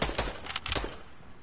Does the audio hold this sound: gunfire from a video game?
yes